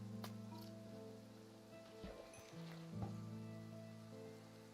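Rain summoned in the video game Forever World falls as a soft, quiet patter beneath sustained musical tones, with a few brief clicks and sizzling bursts.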